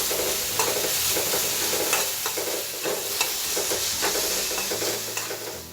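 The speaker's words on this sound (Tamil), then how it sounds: "கொஞ்சம் நான் தேங்காய் துருவிலையும் சேர்த்து நல்லா நான் வதக்கி கொள்ள போகிறேன்" Snake gourd seeds and grated coconut sauté in a pan, giving a steady close sizzle punctuated by regular stirring scrapes of a spatula roughly every half second.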